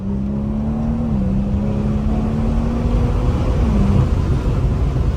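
A 900bhp BMW 340i engine accelerates at about half throttle, a loud steady drone whose pitch climbs, dips at a gear change, then climbs again and shifts once more near the end, with no talk over it.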